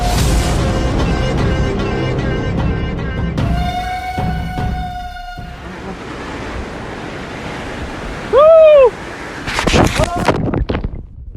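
Water rushes steadily at Muthyalamaduvu waterfall in Karnataka, a loud continuous roar with voices talking, a sustained whistle-like tone and brief tonal calls over it.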